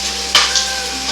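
Ginger garlic paste fries in a pan on an electric cooker, a soft continuous sizzle with a brief louder burst as it is stirred.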